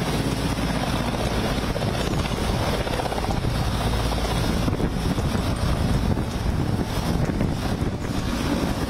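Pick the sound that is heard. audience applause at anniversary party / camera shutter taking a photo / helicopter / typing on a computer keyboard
helicopter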